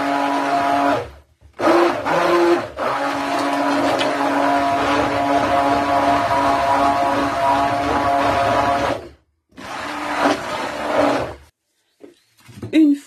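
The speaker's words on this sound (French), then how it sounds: "on peut repasser un coup de mixeur pour bien amalgamer le tout, pour bien mélanger" A hand blender whirs through green clay and basil cold-process soap batter in long, loud bursts, cutting off briefly between pulses before starting again.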